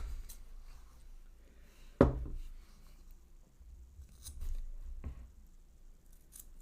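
Scissors snip off the ends of knotted cord on a handmade craft wand, a few sharp isolated cuts spaced seconds apart over quiet handling noise.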